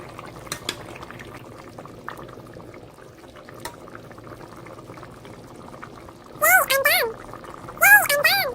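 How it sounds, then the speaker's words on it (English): Chicken stew with a slice of kelp bubbles steadily over medium-high heat in a pot, a soft continuous boiling hiss with occasional clinks, while someone speaks over it near the end. "Add a slice of kelp and boil over medium-high heat."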